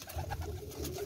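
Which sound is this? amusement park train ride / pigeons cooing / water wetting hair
pigeons cooing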